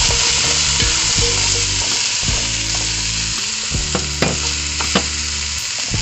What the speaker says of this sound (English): So we add our carrots into our pot with our sweet potatoes and onions.